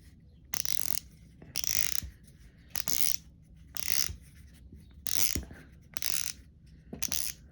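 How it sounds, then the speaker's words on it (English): The drag knob on a Sougayilang KO 5000 spinning fishing reel is being unscrewed, giving seven close, crisp bursts of ratcheting clicks separated by short pauses, with no voices. "Now I'm going to start off by trying to unscrew the drag on it."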